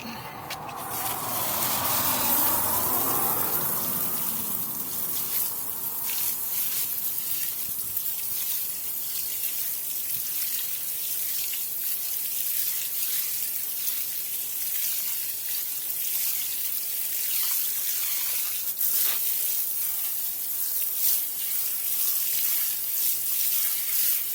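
Water pours steadily onto soil around a mint plant, a continuous splashing hiss that is louder at first, then settles into a gentle trickle.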